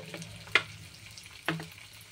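Cooked chana dal and jackfruit curry gets tossed and stirred in a pan, with two distinct scraping thumps of the spoon over a faint, soft sizzle.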